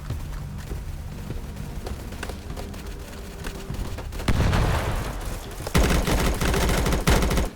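Sniper rifle shots in a game set on a stormy night in Blackhawk: loud, sharp blasts fired at intervals over steady rain-like noise, with no talking.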